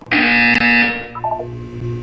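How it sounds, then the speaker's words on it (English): A loud electronic buzzer blares once in a Portal 2 test chamber, a harsh sustained tone lasting about a second before dropping away, followed by faint lower chiming tones. "When you hear the buzzer, look up at the ceiling."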